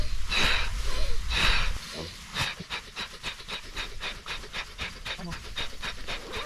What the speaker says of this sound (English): do some little breathing techniques